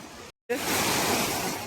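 A small waterfall at the Jhalong river picnic spot rushes in a steady, full hiss, close and continuous after a brief cut, with no voices over it.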